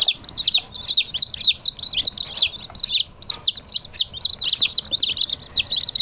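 Day-old chicks chirp continuously in a brooder, their rapid, high peeping calls loud and close, overlapping in a steady chorus with no talk.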